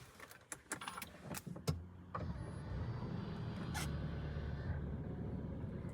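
Clicks and small mechanical sounds lead into a 2023 Audi A3 engine starting, then settling into a low, steady idle hum with a faint whir of motors as the mirrors unfold.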